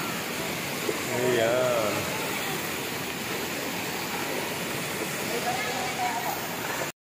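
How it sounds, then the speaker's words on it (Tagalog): Tanawan Falls waterfall pours with a steady, dense broadband roar throughout, loud and close, while someone speaks briefly over it. "Ito na mga lods ng Tanawan Falls."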